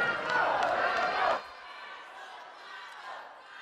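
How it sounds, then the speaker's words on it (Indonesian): A mayoral debate audience claps and shouts for candidate pair number one, a loud crowd burst that cuts off abruptly after a second and a half, leaving faint murmuring room noise. "Kita berikan tepuk tangan untuk paslon nomor urut 1."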